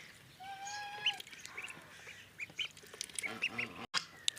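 Outdoor farmyard calls, honking geese scattered over a few seconds in a village, moderately close with light background noise.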